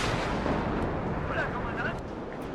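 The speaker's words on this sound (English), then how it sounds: "because their artillery has started to come in" Distant artillery from the WARNO battlefield rumbles in a continuous low roar of booms and blasts, heavy and muffled beneath faint background sound.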